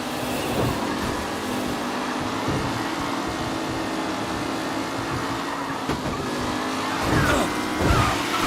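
Race cars roaring around a track in Mafia: Definitive Edition, a dense continuous engine drone with brief tire squeals and louder bursts toward the end, no voices over it.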